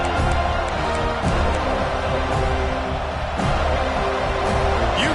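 Home stadium crowd at a college football game roaring loudly and continuously, a dense sustained wall of cheering from a large crowd, with a commentator's voice faintly under it.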